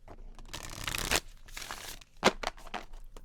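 A deck of tarot cards is shuffled by hand in two rustling bursts, close and crisp, with brief pauses between them.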